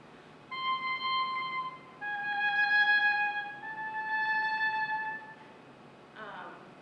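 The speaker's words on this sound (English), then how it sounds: "what is called a timbral trill, where we're playing one note but adding a finger to change the color" An oboe plays a timbral trill, a sustained reedy tone warbling on a few held notes, its color wavering rapidly, in three phrases with a brief breathy sound at the end.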